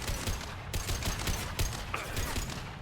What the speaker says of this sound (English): I don't need the gun